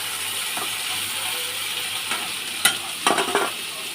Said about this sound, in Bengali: এদিকে এঁচড়টা আর আলুটা একটু ভাজা ভাজা করে নিচ্ছি।